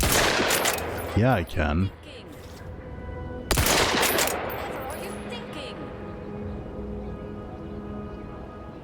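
Rifle fire at crabbles in Outer Worlds 2 comes as a loud burst of rapid game gunshots early on, a second heavy blast midway, then ringing decay with a short spoken reply over the top.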